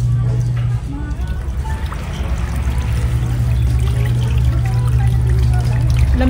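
Strong pump-fed water gushing and pouring steadily while bananas are washed, loud and close throughout with a low hum, and voices talk over it.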